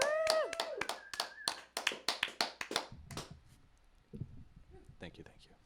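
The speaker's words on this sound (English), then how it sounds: "Let's give another round of applause." A small live audience claps in scattered, uneven bursts for a few seconds at a studio show, with voices talking over and after the clapping.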